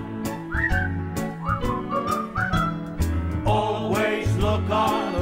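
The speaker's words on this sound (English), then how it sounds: "Just purse your lips and whistle, that's the thing." A bright, melodic whistled tune with short sliding notes, carried over steady instrumental backing music, continuous and close, with no talking.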